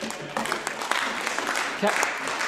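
Applause in the Scottish Parliament chamber during First Minister's Questions, a continuous crowd clatter that runs beneath a speaking voice.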